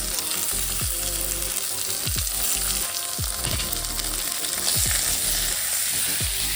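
Pork frying in a pan with onion, ginger and garlic, giving a loud, continuous sizzle close by, with repeated stirring scrapes at a fairly regular pace throughout.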